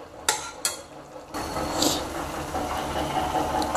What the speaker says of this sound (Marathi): हलवून घेऊयात।